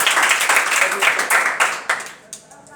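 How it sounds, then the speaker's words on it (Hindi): Students in a classroom clapping together after a correct answer, a dense burst of hand claps with rhythmic pulses that fades toward the end, with a voice talking over it. "जोरदार तालियां, अभी उसको सही जवाब,"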